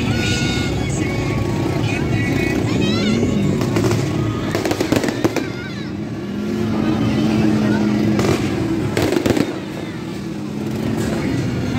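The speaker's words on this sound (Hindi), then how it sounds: "देखें आतिशबाजी हो रही है" During an Independence Day celebration in Karachi, fireworks crackle and pop in scattered bursts over a busy street with passing motorbike and vehicle noise, while someone talks close by.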